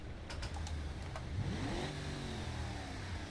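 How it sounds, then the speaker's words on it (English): A pickup's V8 engine in BeamNG revs up once with a rising, rumbling tone and then settles into a steady, throaty hold. The engine sounds close and alone. "That's a much more modern sounding V8."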